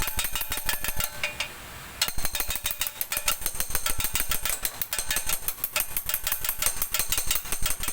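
A diesel motorcycle engine knocks while warming up, giving a fast steady mechanical tapping rattle up close that runs throughout with a brief dip near the start.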